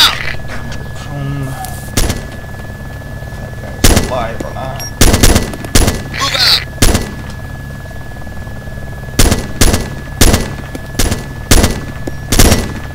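Gunfire in an ARMA 2 battle: sharp bursts of automatic rifle fire and single shots crack at irregular intervals over a low steady background hum, with brief speech mixed in.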